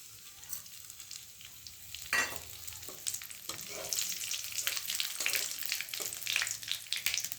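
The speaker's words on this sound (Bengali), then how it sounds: "মাছ ভাজার তেলের মধ্যেই ফোড়নটাকে দিয়ে দিলাম।" Steady sizzling and crackling as whole spices temper in hot oil left from frying fish, with occasional sharper pops and a spoon stirring through the pan.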